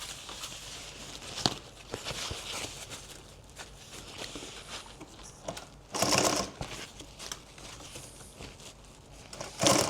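A sewing machine stitches backpack pieces together in short quiet bursts of rapid needle clatter, separated by pauses with handling noises and fabric rustle.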